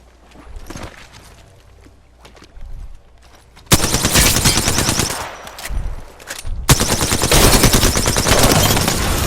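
Rapid automatic fire from the Alternator in a first-person shooter game, loud dense bursts of gunfire that swell to a sustained roar in the second half, with brief gaps between bursts.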